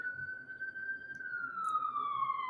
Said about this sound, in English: Ambulance again.